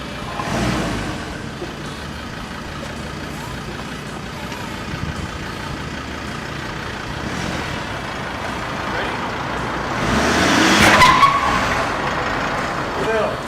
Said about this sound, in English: see a guitar get run over by a four-wheel drive